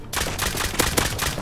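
Rapid automatic gunfire in the survival game Rust, a dense run of loud, close shots with several sharper bursts, no talking over it.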